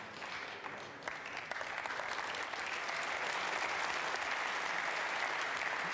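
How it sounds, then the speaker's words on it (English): A snooker crowd at the 2003 UK Championship quarter-final between Jimmy White and Nigel Bond applauds steadily, the clapping soft at first and then swelling into an even, continuous patter that carries on without speech. "Crowd applauding."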